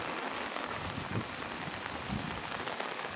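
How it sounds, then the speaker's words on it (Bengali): Steady, dense hiss of heavy rain pouring down in Manikganj town, Bangladesh, a continuous broadband wash with no let-up and no voices. "খুব প্রচণ্ড বৃষ্টি বৃষ্টিতে একটু বাসার বাইরে বের হলাম"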